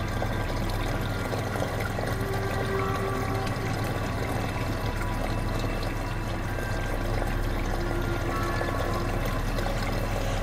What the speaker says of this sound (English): Pour pump cleaner into the...